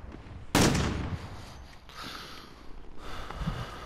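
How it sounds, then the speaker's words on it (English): Gunfire in the Warzone video game, a sharp loud shot burst followed by further scattered shots and rattling at varying distances, with no talk over it. "Somebody else is shooting at him too."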